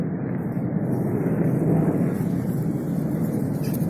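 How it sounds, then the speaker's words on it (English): A broad, steady roar of military aircraft engines from a nearby military airport fills the air overhead, loud and droning with no pauses or voices. "They leave military airplanes extra loud."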